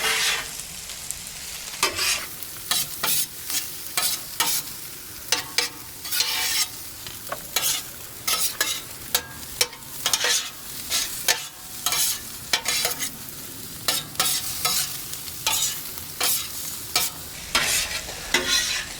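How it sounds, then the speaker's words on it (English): Eggs are stirred into potatoes and chorizo sizzling on a Weber Slate flat top griddle. A spatula scrapes and clacks in a quick, irregular rhythm over a steady frying hiss, close and loud, with no talking. "And then I go ahead and start working them into the potatoes and chorizo."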